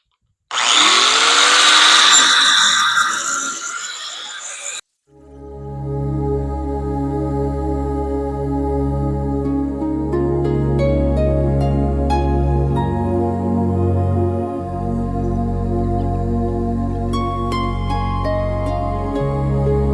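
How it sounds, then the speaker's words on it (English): A burst of harsh noise gives way to a power drill whirring steadily and loudly up close as it drills out plugs, its pitch dipping briefly under load before recovering. "It's made for drilling plugs out."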